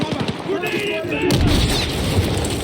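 A grenade goes off in the Battlefield 6 campaign, a heavy boom and rumbling blast that rolls on for a couple of seconds amid gunfire and game voice callouts.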